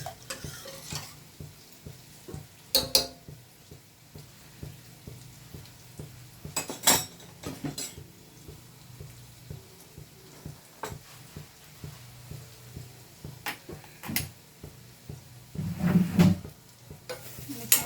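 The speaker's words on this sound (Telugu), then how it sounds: "ముల్లంగి ఫ్రై కూడా అవుతుంది." Radish frying in a pan in a home kitchen, a soft continuous sizzle broken by repeated sharp scrapes and clinks of a utensil stirring against the pan, close up and irregular throughout.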